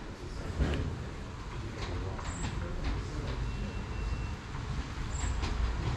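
A train, a terminating service from Ascot, rumbles steadily into a station platform in Surrey, with low continuous rolling noise, faint clanks and brief high squeals from the wheels.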